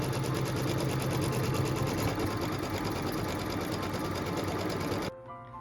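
A sewing machine stitches a quilt block onto batting in a steady, continuous whir for about five seconds, then stops abruptly and leaves a faint quiet tail.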